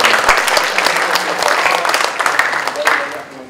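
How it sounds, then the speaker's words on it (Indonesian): Applause for a director at a BNN focus group discussion, a roomful of people clapping steadily and fairly close, with a few louder claps throughout before it tapers off at the end. "Kita kasih aplaus lagi untuk Bu Direktur."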